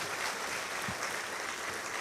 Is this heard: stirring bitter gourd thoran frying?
no